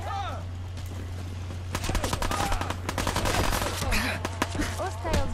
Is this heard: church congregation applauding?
no